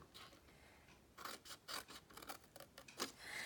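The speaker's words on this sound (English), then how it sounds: "we're going to cut up each one of these score lines." Scissors cut cardstock along its score lines in a quiet craft setting. The close, soft snipping and rasping strokes come in short irregular bursts, with no speech.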